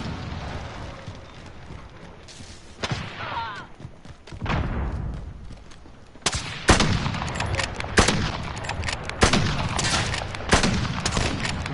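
Bursts of gunfire from a first-person shooter video game crack close and loud in rapid fusillades, growing denser toward the end, with a voice faintly underneath.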